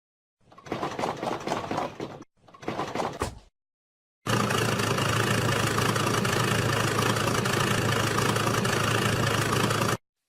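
Steady excavator engine drone from a kids' educational vehicle game, holding loud and even for about six seconds after two short bursts of a voice.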